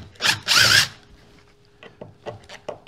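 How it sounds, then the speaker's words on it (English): A drill backs screws out of a trim strip on a triple-white 1987 VW Mk1 Cabriolet during a convertible top replacement. Two loud, close whirring bursts are followed by softer clicks and taps. "I got my drill. I'm gonna start pulling the little clips out"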